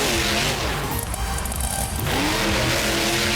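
The Monster Mutt monster truck's engine roars and revs at a Monster Jam event as the truck pulls a big wheelie, loud and sustained with a brief dip in the middle.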